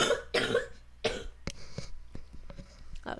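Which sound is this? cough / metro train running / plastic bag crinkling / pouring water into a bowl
cough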